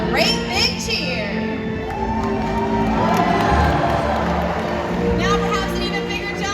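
A large stadium crowd at an orca show cheers and whoops loudly, with children's shouts rising over a steady roar that swells and surges across the whole stretch.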